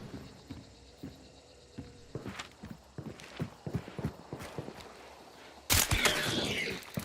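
Horses galloping in a Western game set in 19th-century Louisiana, rhythmic hoof clip-clops at moderate distance, followed by a sudden loud crash or burst of noise near the end.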